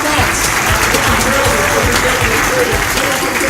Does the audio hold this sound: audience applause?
yes